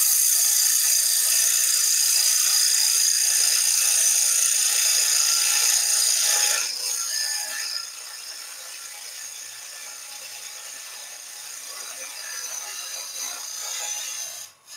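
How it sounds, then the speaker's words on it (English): A beading and parting tool cuts into a spinning wooden blank on a lathe while a German smoker is turned, giving a steady, close, hissing scrape that eases off to a quieter shaving sound about halfway through, with no talk. "Then I'm going to go with my parting tool, beading and parting tool."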